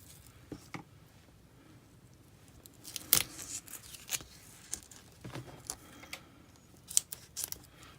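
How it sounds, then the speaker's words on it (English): Scissors cutting a paper card in half, a series of quiet close snips and crisp paper crunches at irregular intervals over a soft background. "I'm going to cut it in half"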